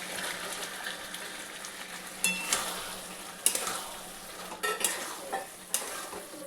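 Boiled black chickpeas cooking into a spiced masala for dry ghugni, a soft sizzle under a few quick stirring scrapes and clicks of a spoon against the pan.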